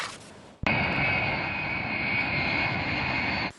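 Algerian air force (ANP) transport airplane carrying a vaccine cargo, its engine roar cutting in abruptly and holding loud and steady for about three seconds before stopping sharply.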